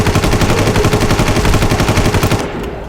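Rapid automatic gunfire from the Far Cry 1 video game, a dense run of loud, closely spaced shots lasting over two seconds before cutting off into a quieter tail.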